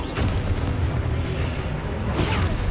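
Spell blasts and impacts in the Hogwarts Legacy video game, a broad continuous rumble of magical explosions with bursts near the start and again around two seconds, loud and steady throughout.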